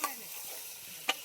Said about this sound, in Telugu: చికెన్ వండుతానా? చికెనే. చికెన్ వండుతానా?